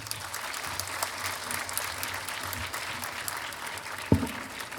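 A graduation ceremony audience gives a warm, sustained round of clapping that fills the hall evenly, with one sharp thump near the end and no speech.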